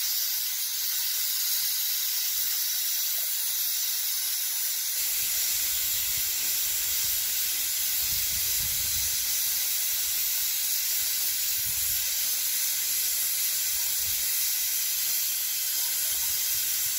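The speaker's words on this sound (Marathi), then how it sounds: "कसा शिट्ट्या मारतो ह्यो कुकऱ्या" A pressure cooker lets out a long, continuous hiss of escaping steam, loud and unbroken, with faint low rumbles underneath.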